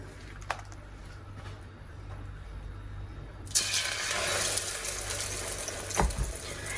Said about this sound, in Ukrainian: Після чого яйце і обсмажуємо.